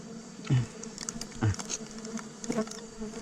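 Stingless bees buzz close by during hive expansion, a steady insect drone with a few louder passes as individual bees fly near, with no talking.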